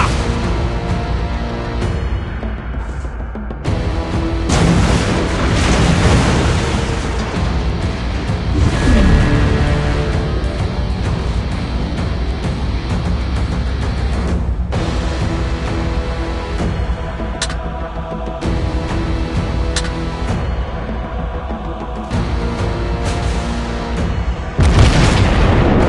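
Naval gunfire and shell impacts in World of Warships Blitz, aboard the Tier IX German battleship Friedrich der Grosse: heavy booming blasts and rumbling explosions layered over a dense, continuous game mix, with loud bursts near the start, middle and end.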